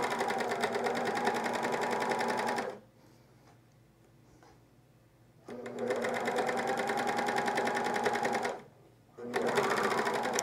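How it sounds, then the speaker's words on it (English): A sewing machine stitches stretched elastic onto a camisole in two long, steady runs of rapid whirring, separated by short quiet pauses, close and loud with no talking. "hold it while it's stretched and then sew and keep it stretched while you sew"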